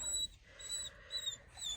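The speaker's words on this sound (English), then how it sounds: "So the dog is in the front, and he's not too happy about it." A dog whimpers and whines in the front of a car, high thin cries coming in several short bursts across the clip over a low rumbling car interior.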